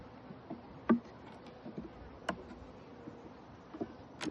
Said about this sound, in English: Some bees cleaning it up.